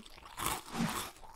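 Honey Nut Cheerios cereal crunches in two close, loud bites within a second or so, dry and crackly with no voices.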